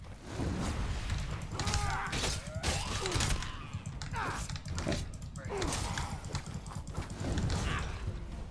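Steady clip-clop of horse hooves with occasional whinnies and clanking, under a busy mix of voices and game noise throughout, in The Elder Scrolls Online.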